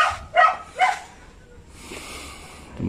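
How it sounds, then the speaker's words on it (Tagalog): Several dogs bark in short bursts near a small rented room, three sharp barks up close followed by quieter distant yapping and faint background noise. "Maraming aso dito ka tol."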